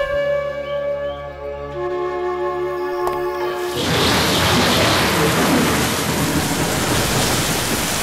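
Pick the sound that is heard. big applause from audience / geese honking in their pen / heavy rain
heavy rain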